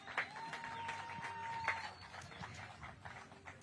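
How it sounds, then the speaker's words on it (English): Crowd applause at a bass fishing tournament weigh-in at Lake Powell, with scattered claps and a faint steady tone in the background, moderate and continuous. "Give him a big round of applause."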